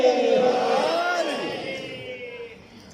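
Crowd at a Shia majlis for 21 Ramzan loudly chanting the slogan Naara-e-Haidari in unison, a strong massed shout that slowly fades and thins over a few seconds.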